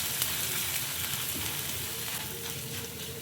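Ginger sautéing with chana dal in a hot pan gives a steady, close frying sizzle with faint scraping stirs, and no voices.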